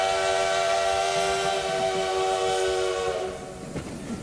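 A steam train on a special run through Wyoming in 1892 sounds a long, loud, sustained whistle that fades in its last second, with rumbling over rails underneath and no talk.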